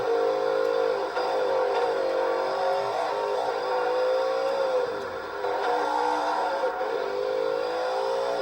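A racing game car engine holding a loud, steady drone whose pitch dips briefly as it brakes, then climbs again as it accelerates, with continuous road and engine noise and no talk.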